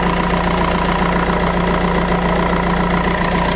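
A Fiat Doblo engine idles steadily and loudly with an even low rumble and no pauses, running after an oil sump replacement and exhaust work.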